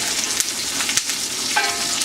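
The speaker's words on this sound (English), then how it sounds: "You want to kind of move them around," Onions and mushrooms caramelizing in a pan while being stirred give a steady close sizzle with small scrapes and clicks of the utensil against the pan.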